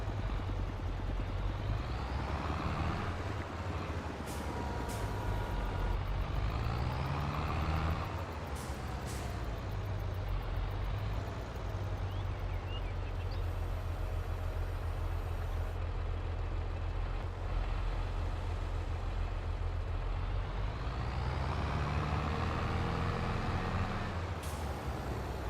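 A truck in Farming Simulator 22 drives with a loud, continuous engine drone that rises and falls through repeated start-and-stop motion, punctuated by sharp hissing air-brake releases, with no talking.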